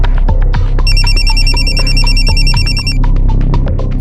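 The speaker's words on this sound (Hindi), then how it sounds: "फोन आ गया तुम्हारा?" A telephone rings with a steady, repeating electronic trill over a loud, busy background hum, continuing for several seconds without speech.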